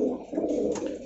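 Fancy pigeons cooing at a pigeon market in Dhaka, one close, low continuous coo that fills the short moment with no talk over it.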